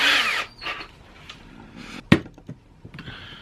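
A power drill with a 1/8 inch bit whirs briefly while drilling a hole in a Harley saddlebag lid, then fades to quiet handling noises, a sharp knock, and a few faint clicks and rustles.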